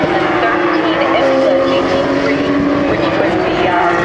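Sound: GT3 Porsche race cars racing

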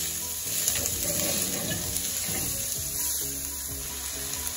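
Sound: chopped onions sizzling in hot oil

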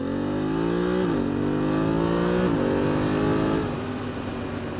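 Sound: motorcycle accelerating and shifting with a quick shifter

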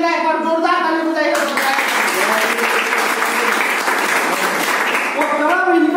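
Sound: audience applause

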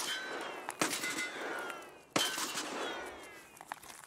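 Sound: gunfire in the video game Escape from Tarkov

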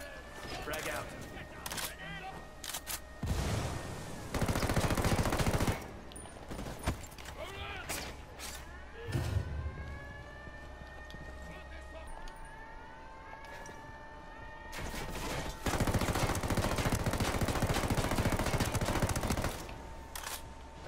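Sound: gunfire in video game Ghost Recon Wildlands

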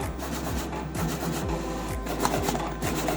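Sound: Teneth C6 Pro Plus label cutting machine cutting labels

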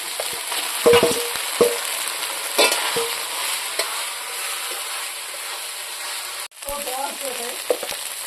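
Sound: drumstick leaves frying and being stirred in a pan

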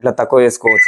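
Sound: speaker beep at maximum volume

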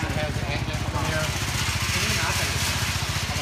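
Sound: 50cc three-wheel scooter engine running

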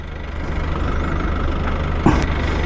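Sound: new Modenas motorcycle engine idling

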